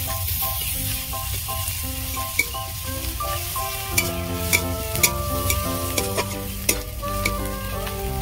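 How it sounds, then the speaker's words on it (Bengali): Grated garlic frying in a pan gives a steady sizzle with a few scraping stirs, heard under continuous background music. "এবার গ্রেট করে রাখা রসুন কুচি দিয়ে দেব।"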